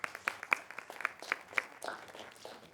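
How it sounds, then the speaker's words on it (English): Scattered, fairly faint clapping from a small university lecture audience, individual claps spaced unevenly and thinning out toward the end. "Can we have a round of applause for Thomas?"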